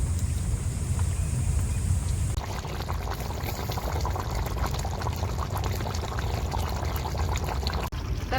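Water pours steadily into a pot with a continuous rushing splash, close and fairly loud, with no talking.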